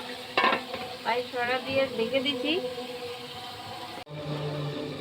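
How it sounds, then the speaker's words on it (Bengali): Low-spice meat being sautéed (kosha) in a covered pan: a steady sizzle runs throughout, with stirring scrapes early on and a voice talking over the cooking. "এবার আমি একটু ঢাকে ঢাকিয়ে কষাবো"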